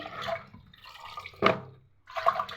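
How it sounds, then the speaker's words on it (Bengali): Spinach leaves being washed by hand in water, a few short close splashes and dripping sloshes separated by quiet gaps. "পালং শাকটা ধুয়ে নিচ্ছি।"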